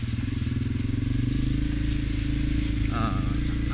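A Honda CRF250F dirt bike engine runs steadily close by on a trail, a continuous rumbling drone with a slight rise in pitch near the end, with no voices over it.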